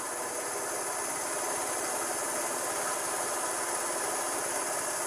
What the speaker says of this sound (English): Do you mind just turning off the engine while we wait?